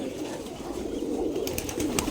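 Giribaz pigeons feed together in a row in an abandoned courtyard, a low steady cooing murmur running throughout with a few sharp pecking clicks near the end.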